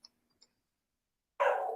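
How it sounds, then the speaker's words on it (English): A dog barking indoors, one abrupt, loud bark bursting out after near silence broken only by two faint ticks. "I am super sorry for the dogs."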